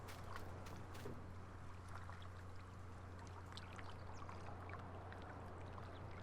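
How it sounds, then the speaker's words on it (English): Faint, steady rushing of water in Farming Simulator 19, a soft continuous trickle over a low hum, with no one talking. "And I hear water somewhere."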